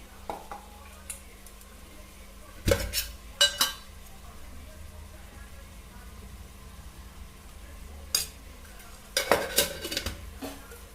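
A spoon scrapes and clinks against a cooking pot of vegetable kurma, with a few short clattering bursts spread over a quiet background of faint sizzling.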